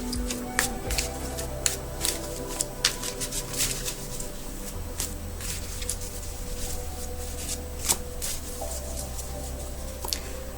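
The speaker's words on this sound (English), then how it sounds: "I'm going to shuffle the cards and then lay them out" Tarot cards shuffled by hand at close range, a continuous soft riffling and slapping with scattered sharper clicks as the deck is worked over for about ten seconds.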